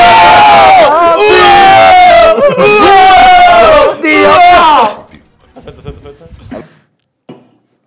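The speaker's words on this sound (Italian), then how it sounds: "ogni tanto bisogna cacciare un urlo." A group of people let out a loud, sustained collective yell that breaks off abruptly, followed by scattered quieter voices and a few faint murmurs.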